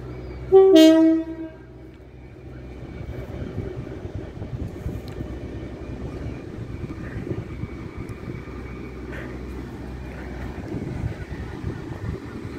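A train horn sounds briefly and loudly as a rail test train hauled by two Class 73 locomotives arrives at Deal station, then it rumbles past steadily. Its low, rolling noise continues throughout and there are no voices.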